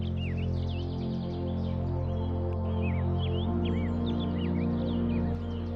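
Birds call in a misty marsh with many chirps and short whistled notes scattered over a low steady background hum, mid-distance and moderately loud, with no voices.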